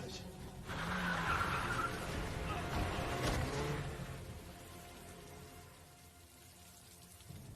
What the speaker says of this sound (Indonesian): Orang itu terluka lalu pergi dan menabrak Dong-so